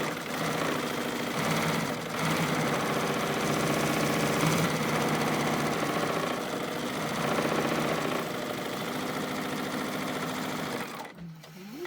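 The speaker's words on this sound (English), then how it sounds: "I am going to chain stitch" A sewing machine chain stitches the side of a fabric bowl coozie, running in a fast steady whir for about eleven seconds with slight pauses in rhythm before stopping abruptly at the end.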